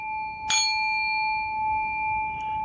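A single bell struck once, a bright clear ring whose tone lingers and slowly fades over a quiet background.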